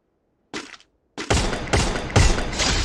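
Free Fire gunshots in a mobile battle royale headshot moment: a short burst, a pause, then heavy sustained rapid fire with strong booming impacts, loud and close, no talking.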